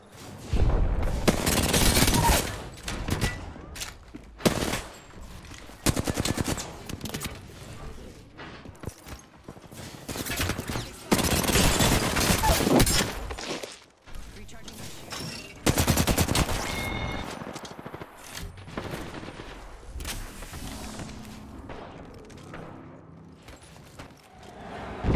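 Sustained gunfire in the Apex Legends battle royale game, played on controller: dense bursts of automatic shots and explosive booms come in several loud clusters over about 25 seconds, with brief quieter gaps between them.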